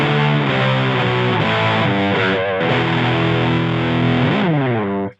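A loud, saturated distorted electric guitar plays a continuous chord riff, the harsh top end smoothed and slightly darker by a graphic EQ, with no talking.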